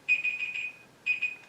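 A timer alarm beeps in two short bursts of rapid, high electronic tones, close and clear against near silence.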